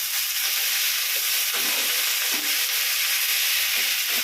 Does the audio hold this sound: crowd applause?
no